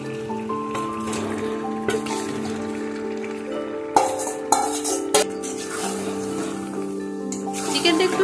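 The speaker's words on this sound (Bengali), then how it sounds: "চিকেনটা একটু সময় নিয়ে কষিয়ে নেব।" Marinated chicken sautéing in a spice masala in a pan for a Bengali village-style chicken curry, a steady sizzle under sustained tonal background music, with spoon scrapes and a few sharp clinks against the pan.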